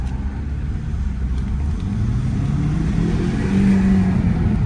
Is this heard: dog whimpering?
no